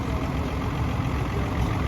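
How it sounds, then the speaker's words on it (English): A 1959 International 660 diesel tractor engine idles in a steady, loud, low rumble with no breaks. "1959 International 660 diesel, another one of them big boys."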